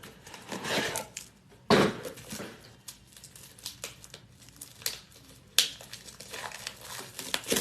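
Fresh paper labels are fed into a Rollo label printer: soft crinkling and rustling with occasional light taps and clicks, faint and intermittent, no talking.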